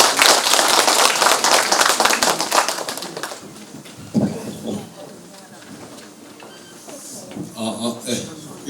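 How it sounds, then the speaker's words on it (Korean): An audience at a Korean civic unification education event applauds a speaker's welcome with dense loud clapping that fades after about three seconds, followed by quieter room sounds and speech. "큰 박수로 환영해 주시기 바라겠습니다."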